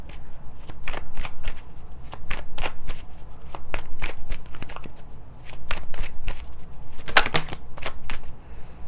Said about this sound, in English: Clarify these cards here for September for Aries